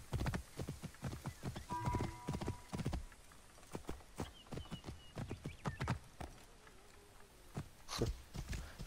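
Horse hooves clip-clopping at a gallop in Assassin's Creed Origins, a dense rhythmic run of hoofbeats with a whinny breaking through, loud and close over game ambience.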